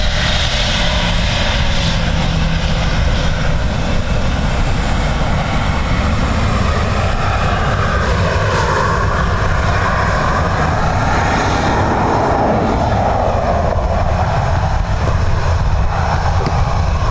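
A Ryanair airliner arrives at Dublin Airport in a crosswind, its engines roaring loud and steady throughout, with a broad rushing drone that swells and shifts as the plane passes close by.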